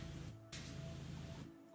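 A steady spray hiss from a video game, continuous and fairly faint, briefly cutting out near the start before resuming and then tapering off at the end.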